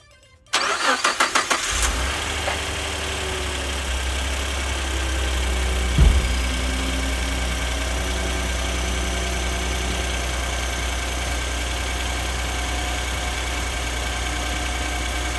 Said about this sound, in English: we're going to go ahead and start the truck and go from there.